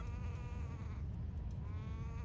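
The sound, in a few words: birds in the video game Zelda: Wind Waker, sounding like a goat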